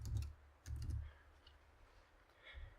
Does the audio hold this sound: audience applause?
no